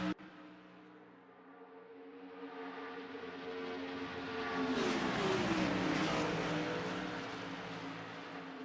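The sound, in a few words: race cars driving in a racing video game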